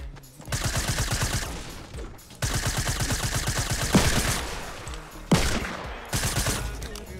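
Video game gunfire in several rapid automatic bursts separated by brief pauses, loud and close, with a couple of sharper single cracks near the end.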